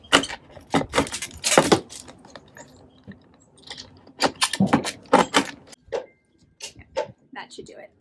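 A dull box cutter scrapes and crunches across a plastic container in short, uneven strokes with clicky, rattling bursts, close by, while a person talks between the cuts.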